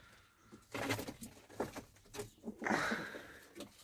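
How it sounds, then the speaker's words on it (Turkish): Newly acquired platinum and white-tailed play pigeons coo softly and shuffle about nearby in irregular bursts, with soft fluttering and scraping between the calls. "Getirdiğimiz güvercinler bunlar."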